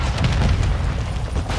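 A grenade detonates in Call of Duty MWII, a loud, broad booming blast with rumbling low end that sustains and decays across the moment without any talk.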